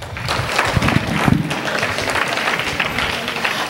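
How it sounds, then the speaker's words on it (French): Audience applause for debate participants, a continuous crowd clapping at moderate level through the whole stretch, with a few sharper claps standing out early on. "Encore vos applaudissements pour nos participants."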